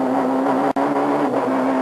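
A 1997 rally kit car engine screams at full throttle from inside the car, a loud steady high-revving drone broken by a quick gear-change dip before it pulls hard again.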